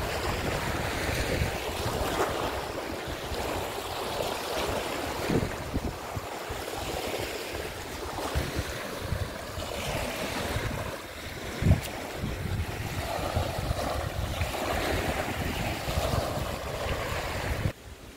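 Waves washing onto the sandy beach at Langat on Lake Toba, a continuous surging wash with gusty wind buffeting the microphone and a brief louder splash partway through, no voices.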